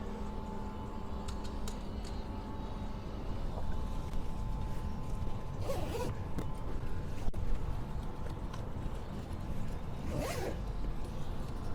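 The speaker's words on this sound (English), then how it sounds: "We'll zip up the other side." A zipper on a dog hammock fitted in a Tesla is drawn closed in a couple of long pulls, rasping clearly at close range over a steady background hum.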